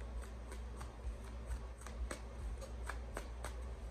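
Tarot cards shuffled by hand in a steady run of soft, crisp riffles and snaps, close and fairly quiet, with no talking.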